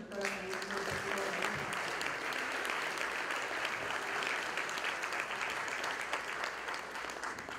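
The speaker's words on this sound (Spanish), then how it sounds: "Recibamos con un fuerte aplauso a nuestro vicerrector" An audience at a university talk on industry applauds to welcome the vice-rector, with continuous, even clapping from a seated crowd. A voice is heard briefly at the start.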